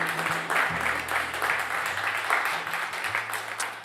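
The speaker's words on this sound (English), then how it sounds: "but how about one more round of applause for Mike Jones" Audience applause at a live radio show, a steady wash of clapping from a studio crowd that holds throughout, with faint low tones sustained underneath.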